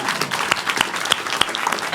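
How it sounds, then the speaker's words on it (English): An audience applauds at a filmmakers' panel discussion, a close, steady patter of clapping hands with a few sharper claps standing out, with some voices mixed in. "I have a round of applause for your question."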